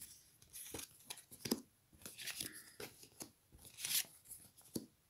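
Tarot cards are drawn and handled close by, giving a series of quiet crisp slides, flicks and papery snaps in irregular bursts, with no voice heard.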